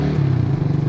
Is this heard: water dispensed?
no